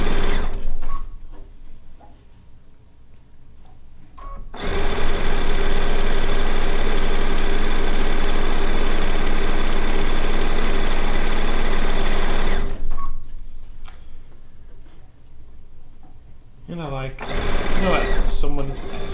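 A sewing machine pieces fabric in a home studio, running in a loud steady whir for several seconds between quieter pauses, with someone talking in the gaps and a few short stitching bursts near the end.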